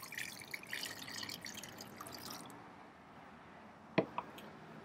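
Water runs and splashes over brewing grain for about two and a half seconds, then fades to a quiet background broken by a couple of sharp drips near the end, with no talking.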